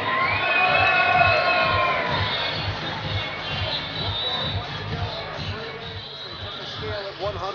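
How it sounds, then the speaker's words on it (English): Loud crowd at an MMA event cheers and shouts after a first-round TKO win, a dense wall of applause and whoops that peaks early and gradually eases, with an announcer's amplified voice over the noise. "Let's hear it one more time for Silton Buendia"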